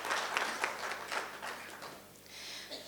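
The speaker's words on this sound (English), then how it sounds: "So a huge round of applause to her." At a health summit, an audience applauds an award-winning woman, a fairly quiet burst of clapping that tapers off within a couple of seconds.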